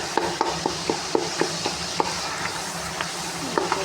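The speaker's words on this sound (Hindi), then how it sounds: "अब इसके अंदर कोई सब्जियाँ डालूँगी, आलू मटर और गाजरें तीनों" Potatoes, peas and carrots go into a hot pan and are stirred, giving a steady sizzle under a series of light clinks and taps from the utensil, close and moderately loud with no talking.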